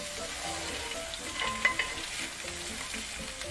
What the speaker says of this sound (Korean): 그래서 이렇게 한번 볶아주세요